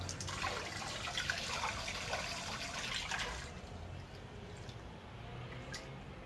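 A small submersible pump sprays water inside a homemade parts washer, giving a steady close splashing hiss for a few seconds before easing into a quieter trickle and drip.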